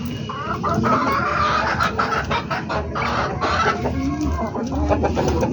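Chickens on a backyard farm cluck steadily and loudly, with rooster crowing rising over the clucking and continuing through the whole stretch.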